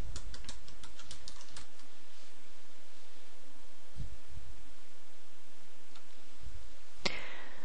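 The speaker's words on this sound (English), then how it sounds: "in this box, we type the parameter" Keys clatter on a computer keyboard in short, uneven bursts with pauses, close and clear over a faint steady hum, with one sharper click near the end; no talk.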